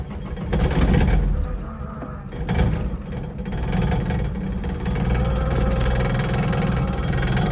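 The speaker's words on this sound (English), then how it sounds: "Yep, fuel pump's angry." The fuel pump of a running VW Caddy whines under a steady mid-pitched engine drone, with a continuous whir and vibration close by and no speech.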